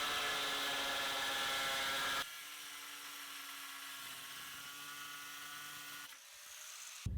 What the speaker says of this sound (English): This is my second cut into that same piece of clay-based ceramic tile